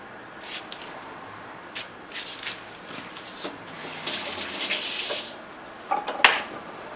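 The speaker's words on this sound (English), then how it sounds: "Rinse off my hands." Hands being rinsed under a running kitchen tap while preparing tropical fruit: water splashes and gushes unevenly, swelling louder midway with a sharp clatter near the end.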